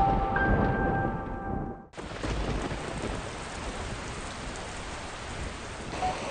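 Rain pours steadily with a low rumble like distant thunder; it begins abruptly after a short stretch of quieter rumbling and continues evenly.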